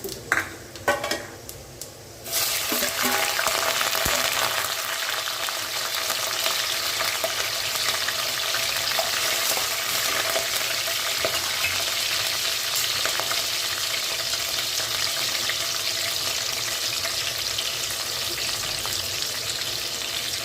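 Loud, steady sizzling of chopped green chillies frying in hot oil, with occasional stirring clinks early on, continuing without pause throughout.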